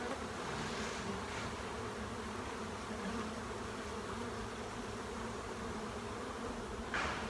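A honeybee swarm in Florida hums continuously during hive retrieval, a dense, steady buzzing of many bees close by with no voices.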